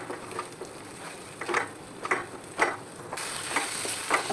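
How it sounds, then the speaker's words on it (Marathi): Onion-tomato paste gravy is sautéed in oil in a pan, a spoon scraping through it in rhythmic strokes about every half second over a soft, steady sizzle. "आता हे आपल्याला व्यवस्थित परतून घ्यायचं आहे"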